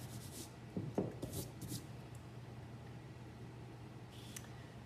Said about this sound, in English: this leaf right here is in front of the edge of this pot, so I'm going to erase that